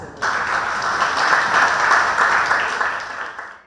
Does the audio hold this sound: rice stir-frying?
no